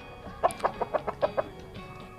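A Bangkok game chicken, a young free-ranging bird, gives a run of six short, evenly spaced clucks, close and moderately loud over a low background.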